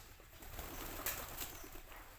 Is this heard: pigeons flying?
yes